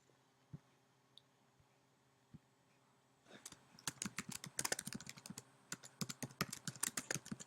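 Code being typed on a computer keyboard: after a few isolated taps, fast, close, irregular key clicks begin and continue in quick bursts to the end, with no speech.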